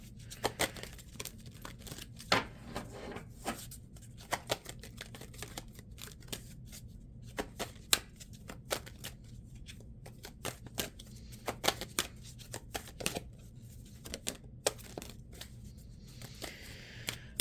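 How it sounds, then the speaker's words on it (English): Tarot cards being shuffled over and over at a reading table, a long run of quick papery riffles and taps in irregular bursts, fairly quiet and close, with no talking. "I don't know why I just kept shuffling so much"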